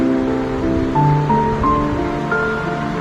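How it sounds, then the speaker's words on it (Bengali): Water pours into a pot of chicken curry with potatoes, a steady rushing splash lasting a few seconds, close and fairly loud. "এবার জলটা দিয়ে দিচ্ছি।"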